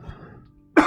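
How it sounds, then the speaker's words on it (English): A single abrupt, loud cough close to the mic, coming right after a short stretch of faint murmuring and near silence, during a build of a small FPV drone. "I still have a bit of a cough"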